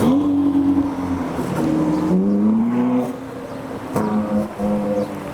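Ferrari TDF engine revving as it leaves Goodwood, loud and close, with several rising and falling rev sweeps and a deep, rasping exhaust note that briefly dips between blips.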